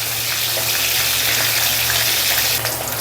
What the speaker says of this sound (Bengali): মাছগুলো দিয়ে দিয়েছি তেলের ভিতরে। এবার সুন্দর করে লাল লাল করে ভেজে নিব।